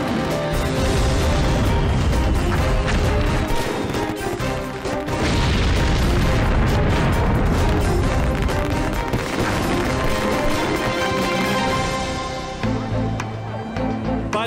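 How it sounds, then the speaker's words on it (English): Dense, continuous crackling and booming of fireworks stands going off in the 2007 Bocaue fire amid a roaring blaze, loud and chaotic with overlapping bursts for the whole stretch. "another explosion sends debris flying. The fire rages out of control. Pyrotechnics shooting off in all directions"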